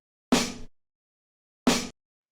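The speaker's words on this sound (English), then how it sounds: "We have this vinyl snare." A vinyl-sourced snare sample for a trip hop beat strikes twice in isolation, each hit a crisp, bright crack with a brief ringing body, separated by clean silence.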